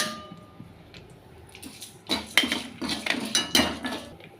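Lentils dropped into hot oil in a pan for a Tamil manathakkali thuvaiyal, heard as a burst of clattering, rattling metal-pan sounds from about two seconds on, close and fairly loud with no talk.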